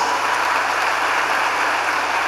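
A congregation applauds during a church sermon: a dense, steady wash of clapping that fills the whole moment without letting up, loud and close, with no voices rising above it.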